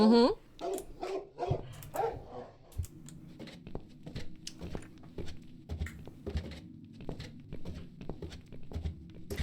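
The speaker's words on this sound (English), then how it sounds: "This dog is making quite a racket." A dog barks repeatedly in the video game The Cat Lady, short sharp yaps in irregular bursts with some whimpering, mixed with voices talking over it.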